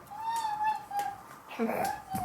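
A cat meows in a long, wavering cry, followed by a shorter meow, fairly close, with faint background noise.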